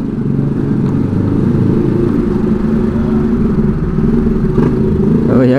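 A motorcycle with a stock exhaust drones steadily and fairly loud inside a tunnel, with a mild rise in revs near the end; the exhaust note stays plain rather than booming.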